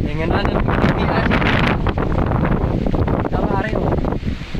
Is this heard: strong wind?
yes